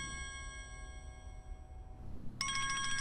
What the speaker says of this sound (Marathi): फोन सायलेंट वर नाही का ठेवतायत?